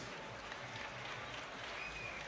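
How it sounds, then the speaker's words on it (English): Crowd applause at a Muay Thai fight night for two fighters, Scotland versus France, in the -65kg division, steady and dense throughout, a broad wash of clapping with some voices mixed into the roar. "ladies and gentlemen, please, a massive round of applause for both fighters"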